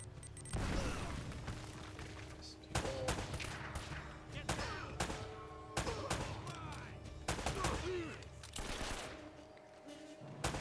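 Enemy gunfire in Uncharted: Drake's Fortune pops in repeated sharp bursts and scattered single shots over game ambience, mixed with occasional voices.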